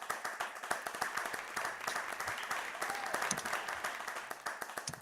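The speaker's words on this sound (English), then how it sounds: "So huge claps for Starlight." Audience applause at an online NFT showcase, marking a birthday: steady clapping from a group, moderately faint and continuous throughout with no talking over it.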